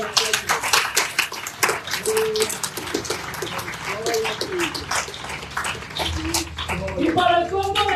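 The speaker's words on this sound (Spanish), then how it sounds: "Fuerte más fuerte ese aplauso para el Señor." Church congregation clapping in a dense, continuous patter of overlapping applause, with voices and speech mixed in throughout and louder bursts near the end.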